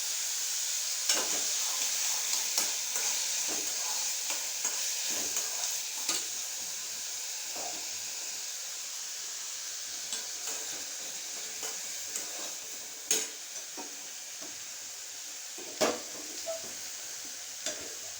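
Raw plantain poriyal sautéed in a pan gives a steady close sizzle with a hissing high wash, broken by irregular scrapes and clicks of stirring against the pan, with no voices.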